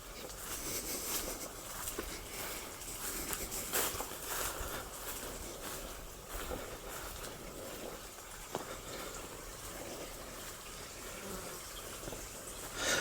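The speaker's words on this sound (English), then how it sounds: "I love the sound of the water here." Faint, steady running water from a stream with a soft trickling patter, continuous and fairly distant, no talking.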